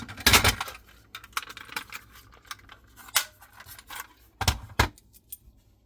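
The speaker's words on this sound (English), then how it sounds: "it's just the lock isn't technically made for one of these keys, so you have to kind of jiggle it around a little bit to actually get it to work" A key jiggled in a lock that does not quite fit it, giving close metallic jangles, scrapes and clicks in irregular bursts with sharp louder rattles and no talk.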